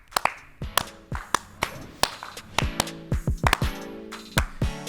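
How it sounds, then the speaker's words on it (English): Several hands clap sharply at the close of an NFL recap show, sending out a few dozen uneven, close, loud claps that cluster and overlap in bursts over about five seconds, with no talking. "Clap it up."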